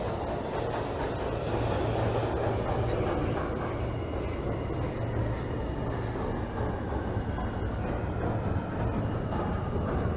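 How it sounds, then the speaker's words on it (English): Continuous running noise of an R160 subway car on a J local route in the OpenBVE train simulator, a dense low rumble with faint whining tones drifting upward, steady and close, no voices. "inbound J local train."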